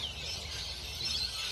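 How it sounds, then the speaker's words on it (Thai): Faint bird chirps and calls in a forest come and go over a low, steady outdoor rumble, with no voices. "เสียงนกร้องนี่คือเสียงธรรมชาติเลยค่ะ"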